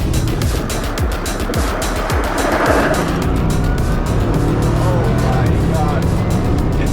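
A Bugatti Chiron Super Sport launching hard: a loud, close engine roar with rapid pulsing intake and exhaust noise that climbs and sustains, with people talking and exclaiming over it inside the car.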